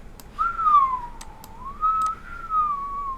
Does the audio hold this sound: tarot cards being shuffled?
no